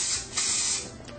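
A steady, close hiss of an aerosol can spraying, continuous with slight surges in strength, lasting about a second.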